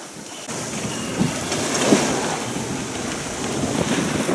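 Rough sea surges around a sailboat running under motor off Croatia, with a continuous roar of waves and heavy wind buffeting the microphone, loud and close.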